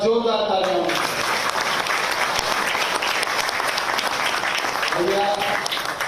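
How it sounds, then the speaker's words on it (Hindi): A crowd at a welcome ceremony in Jaipur claps loudly for four medal-winning athletes, a dense roar of applause that fills the middle of the clip, with a speaker's voice heard at the start and the end. "सबसे पहले इन चारों खिलाड़ियों के लिए एक बार जोरदार तालियां"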